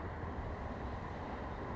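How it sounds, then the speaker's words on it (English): A dense, continuous low rumble and roar, like a train rolling past nearby, steady in loudness with no talking. "Maybe I should start a protest about noisy trains."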